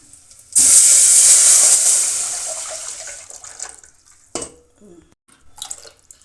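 Sambar poured into hot tempering of mustard seeds, dried red chillies and curry leaves, a loud sudden hiss and sizzle that fades over a few seconds, followed by softer clinks and stirring.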